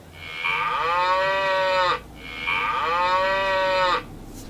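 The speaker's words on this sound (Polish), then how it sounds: "Krówka muczy." A cow's moo played from an electronic educational toy cube, two long, loud, tonal lowing calls in succession, each about a second and a half, with a short gap between and no talk.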